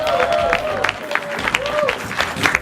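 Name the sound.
audience applause as speakers come to the stage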